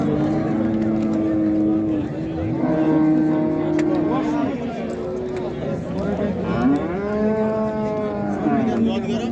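A milking cow at a busy livestock market lets out long, drawn-out moos over a steady hum of crowd and engine noise, with people talking nearby.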